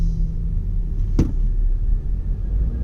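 Car engine idling steadily as its oil warms, a close, constant low rumble with one brief sharp tick partway through and no voices.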